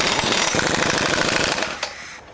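Radius arm bolts beside an axle housing are tightened with a wrench, giving a rapid rattling mechanical burst up close for about two seconds before it cuts off.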